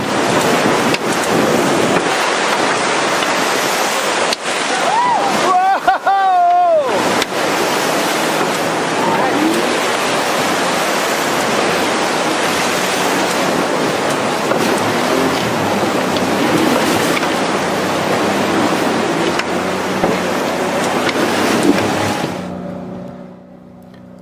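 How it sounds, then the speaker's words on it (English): Rushing Grand Canyon river rapids splash and roar around a raft on the Colorado, a loud continuous broadband wash with wind buffeting the microphone, lasting over twenty seconds before fading out at the end. "The splashing continued all afternoon to the delight of everyone, especially when running the Hermit Rapids."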